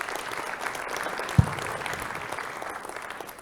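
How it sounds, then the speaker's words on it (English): Audience applause at a Rotary club meeting, a steady patter of many hands clapping at moderate volume throughout, with one sharper clap standing out. "Can we give him a clap?"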